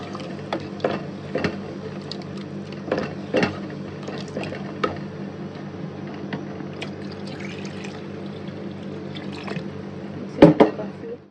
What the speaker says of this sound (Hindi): अब इसमें पानी में ऐड कर रही हूँ, उतना पानी की जितनी ये गल भी जाए